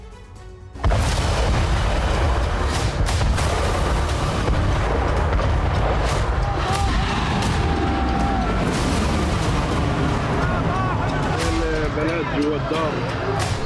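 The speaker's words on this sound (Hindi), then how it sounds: "दक्षिणी गाजा के राफा में लगातार बमबारी हो रही है" Continuous bombing in Rafah, southern Gaza, makes a loud, heavy roar of booming blasts and rumbling that starts abruptly and persists throughout, with voices and shouting audible within the din.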